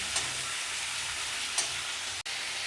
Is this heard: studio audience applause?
no